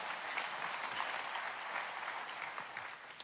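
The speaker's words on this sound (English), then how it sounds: "boom, you can clap at that." Church congregation applauding during a sermon, a steady wash of clapping from a large crowd at moderate distance that holds evenly throughout.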